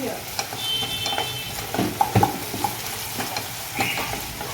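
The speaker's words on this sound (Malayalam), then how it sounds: "തക്കാളി നല്ലോണം വേകട്ടെ." Tomatoes cook in a hot frying pan for a chicken keema curry, a steady sizzle running throughout with repeated close scraping and clanking stirs of a spoon against the pan, and no talk.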